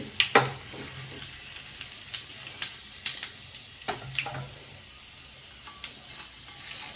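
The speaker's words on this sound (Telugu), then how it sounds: "ఎల్లిపాయలు కొంచెం ముందు వేసుకుంటే నీట్గా ఫ్రై అవుతాయి" Onions and chillies fry in hot oil with a steady close sizzle, broken by sharp crackles and pops scattered throughout, with no voices.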